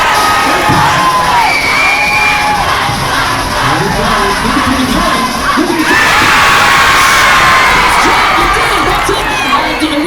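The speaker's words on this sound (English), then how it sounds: "Alright, audience, you're gonna cheer them on." A school assembly audience of 7th and 8th grade children cheers and yells loudly and continuously, a dense crowd roar with shrill shouts and whoops that swells further midway.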